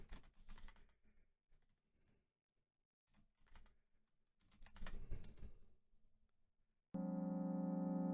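Typing a name on a computer keyboard comes through as quiet, irregular bursts of key clicks with pauses in between, followed by a sudden steady electronic tone from the game.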